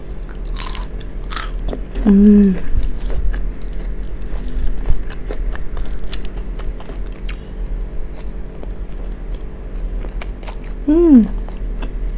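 Crunchy chewing and biting of spicy Balinese pork ribs during a mukbang, close and loud with crackly bites and wet squishes, and voices making brief sounds in between.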